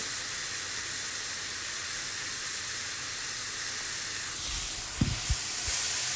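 Fried rice sizzles in a pan as a steady, dense hiss that fills the whole stretch, with a few soft knocks and clatters near the end.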